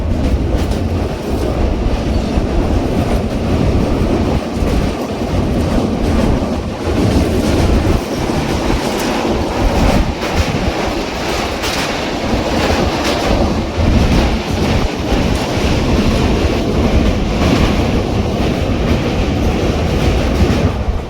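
A passenger train runs along the rails near Amritsar, its wheels beating a loud, continuous clickety-clack over a heavy rumble with wind rushing past, steady for a long stretch with no voices.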